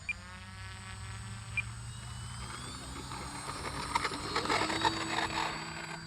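An FMS Sky Trainer RC airplane taking off with takeoff flaps, its electric motor whining steadily and rising in pitch as it climbs away, with talk over it.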